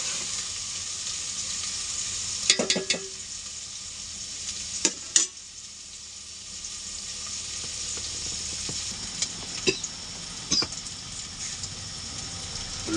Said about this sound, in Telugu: ఫ్రెష్గా కడిగి కట్ చేసిన తోటకూర అయితే యాడ్ చేస్తున్నాను